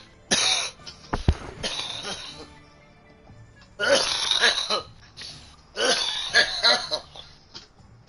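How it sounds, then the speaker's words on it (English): Coughing from a person during a live stream, a few harsh bursts early on and again later, fairly close, with talk around them. "Eric don't cough like that."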